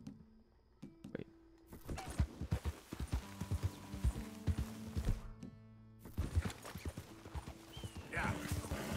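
Horse hooves clip-clop in Red Dead Redemption 2, sharp irregular hoofbeats that come in bursts with short gaps, with game sounds mixed in and a speaker talking under them.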